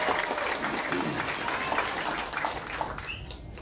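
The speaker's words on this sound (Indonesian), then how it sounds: "boleh tepuk tangan untuk semua" Warm applause from a crowd at an Indonesian political declaration rally backing Anies Baswedan for president, continuous clapping with faint crowd noise throughout.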